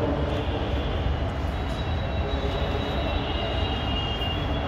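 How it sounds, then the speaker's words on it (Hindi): Rapid Metro train pulling into a station in Gurgaon, a steady loud broadband rumble with a faint high whine running throughout, no talk heard. "तो रैपिड मेट्रो आएगी अब"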